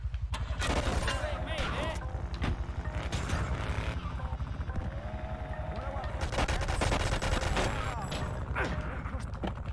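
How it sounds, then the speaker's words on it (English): Rapid gunfire aimed at the player in GTA 3, a dense run of sharp repeated shots across the whole stretch, loud and close, with a voice talking over it. "Can you like not shoot me?"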